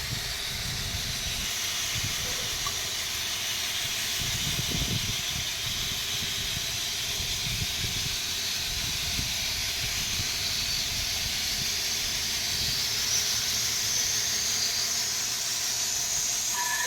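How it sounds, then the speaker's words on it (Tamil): A large saw blade slices through pink granite from Krishnagiri during temple tank construction, giving a steady, loud hissing grind that runs unbroken throughout, with low rumbling underneath. "அவ்வளோ பெரிய பிளேடு கட் பண்ணுறது"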